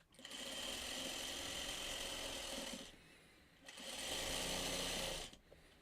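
A sewing machine stitches a seam in two loud, steady whirring runs separated by a brief pause, with a short stop at the end.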